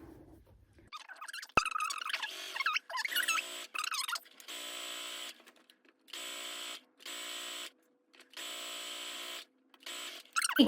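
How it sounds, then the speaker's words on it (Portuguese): A sewing machine stitches the side seam of a viscose dress in several short, even bursts with pauses between them, close and clear. "eu vou vir fazendo aquela costura larguinha até aqui no meu pique da lateral"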